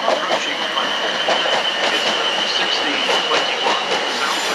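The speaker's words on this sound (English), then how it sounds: "The train now approaching platform 11 is the" A train rolls into platform 11 at Clapham Junction station with steady rumbling and metallic wheel squeal, a constant high whine running throughout, loud and close.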